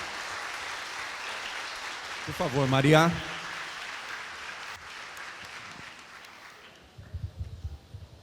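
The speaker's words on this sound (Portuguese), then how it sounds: "Salva de palmas" Audience at a climate conference session applauding steadily for several seconds, a broad crowd clap with a voice speaking over it partway through before the clapping fades.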